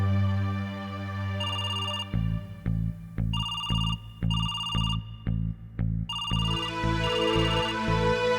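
A mobile phone's ringtone plays at night, a bright melodic electronic tune cycling through repeated phrases with short rhythmic pulses, loud and close in an otherwise quiet room.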